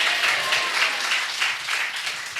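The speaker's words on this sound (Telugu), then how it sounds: "చప్పట్లు కొట్టి దేవునికి స్తోత్రం చెప్పండి" A church congregation claps in a steady, even rhythm, the sound loud and full, with no talking over it.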